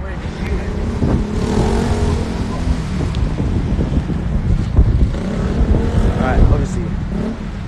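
A car rolls down the road with a constant rumbling engine and tyre drone mixed with wind buffeting, loud and close throughout, while voices chatter faintly beneath the road noise.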